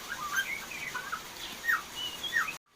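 A caged starling (jalak) chirps in short, bright whistled phrases repeated every half second or so, close and clear over faint background hiss.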